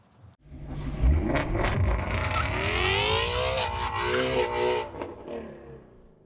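A 2025 Roush F-150 truck engine starts up and revs as it pulls away, its rumbling tone rising and falling through gear changes, loud and close from inside the cab, without speech.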